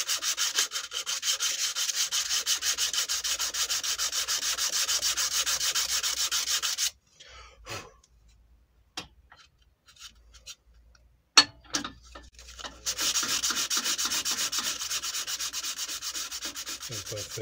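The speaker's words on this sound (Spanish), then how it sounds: "Te puedes pasar decenas de horas lijando." Steady, close scratchy hand-sanding strokes on a coral bowl, continuous for several seconds, then a quiet pause with a few small knocks, then the rubbing resumes.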